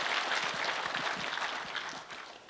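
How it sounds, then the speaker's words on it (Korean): At a book launch, the audience gives a brief round of applause, a soft, fairly distant patter of clapping that fades slightly toward the end. "박수 부탁드리겠습니다."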